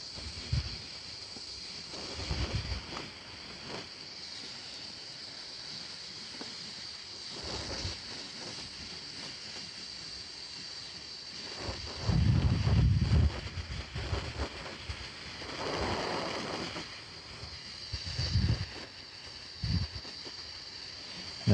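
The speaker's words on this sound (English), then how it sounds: "it's a little windy this morning" Wind blowing outdoors on a breezy morning, a steady broadband rush with stronger low gusts buffeting the microphone, especially midway through, with no talk.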